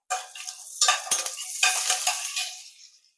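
Whole spices for paneer biryani, cinnamon, cloves, cardamom and bay leaves, frying in a pan make a close sizzle in several surging bursts, with light scraping as they are stirred, then fading out.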